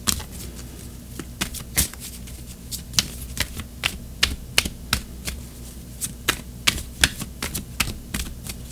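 Tarot cards being shuffled at close range, a steady series of crisp riffling snaps and flicks with short pauses between bursts, alone with no talk over them.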